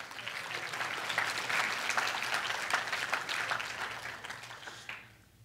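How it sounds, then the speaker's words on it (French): A church congregation applauding during worship; dense, moderately distant clapping that builds, holds for about five seconds, then quickly dies away. "ouais, on peut applaudir, on peut."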